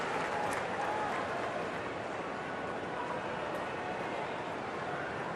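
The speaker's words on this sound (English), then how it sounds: "And a round of applause for Shane Stiller, as he's placed very carefully on the mobile stretcher." Steady applause from a stadium crowd at an AFL match between Brisbane Lions and Port Adelaide as an injured footballer is carried off on a stretcher, a continuous even wash of clapping at moderate level.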